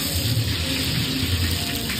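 Steady rain falls outdoors, a dense continuous patter with no breaks and no voices, at moderate loudness throughout.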